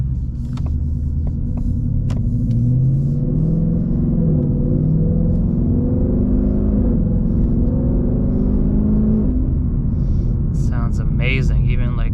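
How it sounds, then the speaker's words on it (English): A 2019 Mustang GT with a Corsa Extreme exhaust rumbles deep and loud from inside the cabin while driving, its engine note rising and falling through moderate revs, with brief voices and other noises near the end. "Mustang GT with the Corsa Extreme exhaust."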